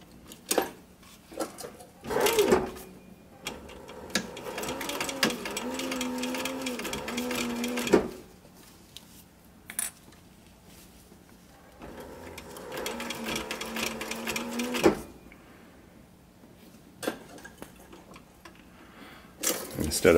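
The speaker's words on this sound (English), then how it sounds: "I'm making sure the good side's facing up so I can really watch where I'm putting my stitches here" Sewing machine stitching Velcro onto a fabric sun visor, running in two long bursts of rapid mechanical stitching separated by quieter pauses with light handling clicks.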